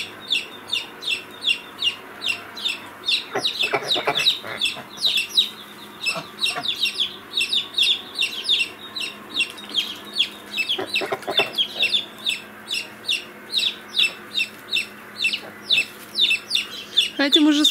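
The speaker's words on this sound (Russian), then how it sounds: "Там цыплята орут крики." Chickens and chicks on a village farmstead cluck and call in a busy, repeated chorus of short chirping cries, with occasional louder clucks and some faint background voices.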